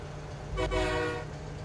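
A train in the video game Farming Simulator 25 travels near the map edge, giving a brief tonal horn-like toot over a steady low rumble of rolling stock.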